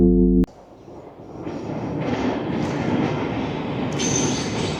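A train runs along railway tracks close by during a walk near Werribee, Melbourne, a loud steady rumble of wheels and carriages that builds, with a high wheel squeal near the end.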